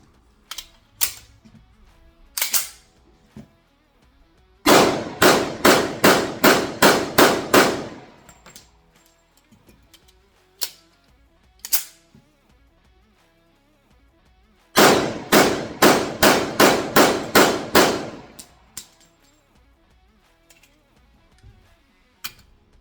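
Rapid gunfire from a Tisa Night Stalker .45 1911 pistol at a range: two quick strings of about eight sharp, loud shots each, plus scattered single reports and clanks before, between and after, with no talking.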